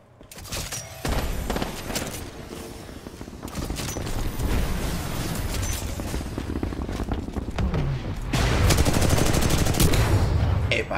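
Weapon fire from Titanfall 2 rings out in dense, loud bursts of rapid shots, with brief lulls between volleys and a heavier, sustained barrage near the end.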